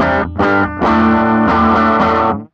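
An electric guitar played hard through a Vox MV50 clean amp with a Class D power section, breaking up into gritty overdrive. Several loud, close strummed chords are separated by short gaps and sustain before a quick cutoff.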